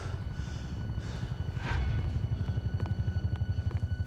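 A police helicopter passes overhead, its rotor a faint low rumble that grows into a steady rhythmic thumping in the second half, heard at a distance with no talk.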